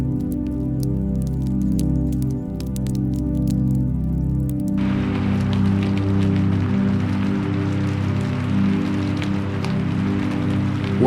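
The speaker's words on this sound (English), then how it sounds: "the rain continues to fall, and the water begins to gather at the garden's edge" Rain falls steadily in a temple garden, a soft continuous patter and hiss that swells in partway through over a low, sustained musical drone.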